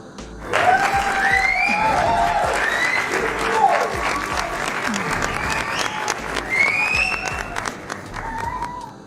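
A round of applause greets a friend arriving at a live mural painting session, clapping running throughout while excited voices and cheering rise over it.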